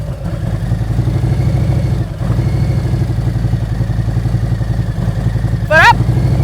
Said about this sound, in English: as soon as he feels the bike moving, he is going to let that clutch out and come to a smooth stop